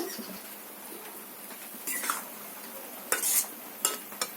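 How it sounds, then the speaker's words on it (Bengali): A metal wok clanks and scrapes against a lit stove in a few sharp, separate knocks over a quiet background. "এবার আমি কড়াইটাকে বসিয়ে দেব"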